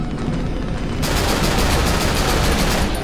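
Sustained automatic gunfire from a weapon in the horror video game Cry of Fear, a loud close stream of shots that erupts after a brief moment and continues unbroken to the end.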